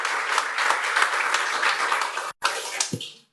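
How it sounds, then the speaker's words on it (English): Applause from a city crowd honoring fire department and police officers at a mayoral proclamation, a steady, full burst of clapping lasting a few seconds with a brief dropout before it tapers off. "Give them a round of applause, please."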